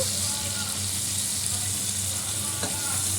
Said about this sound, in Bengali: পেঁয়াজ কলিটা ভাজা হয়ে গেছে,